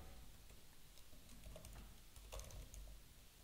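Soft, steady keyboard typing on a computer while entering code, a quiet stream of small clicks with a slightly busier burst partway through, heard close and alone without talk.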